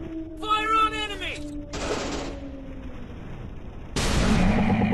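Gunfire from the Android FPS game Commando Secret Mission comes in two short loud bursts, the second running to the end, with a voice and a tonal game sound in between.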